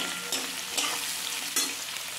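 Chopped onions hiss and sizzle steadily in a hot pan, with a few louder scrapes of a spoon stirring them through the oil.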